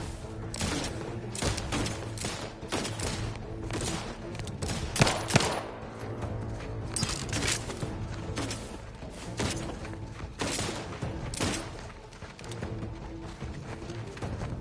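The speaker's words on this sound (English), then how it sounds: "Just shoot in the thin air." Rapid bursts of gunfire from The Outer Worlds 2 played on PS5 at very high difficulty, dense overlapping volleys and heavy thuds firing almost continuously across the whole stretch, loud and close.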